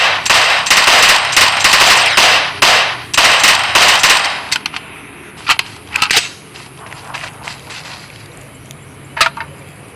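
Automatic gunfire from a PUBG match rattles in dense, loud bursts for the first four seconds, then breaks into scattered single shots and short volleys with pauses between them.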